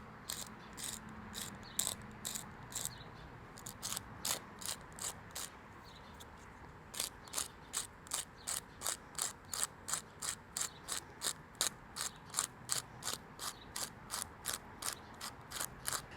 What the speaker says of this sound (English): Now this is a grinder, which is great because we're gonna get that fresh ground effect.